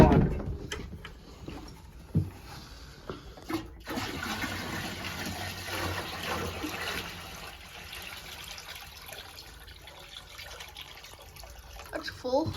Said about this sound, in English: Put some water in the big stainless pot.